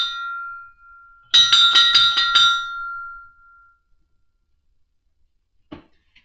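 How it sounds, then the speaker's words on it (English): A bell at a blacksmith's forge rings several quick strikes in a row, loud and bright, with a long ringing tail that fades out, followed by silence and a faint knock. "So we'll ring the bell for that real quick."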